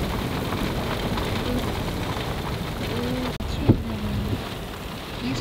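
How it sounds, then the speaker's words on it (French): Steady rain patters on the roof of a 4x4 camper cell in Mongolia, a soft continuous hiss with a few brief knocks, and no talk. "Il pleut. Il pleut encore."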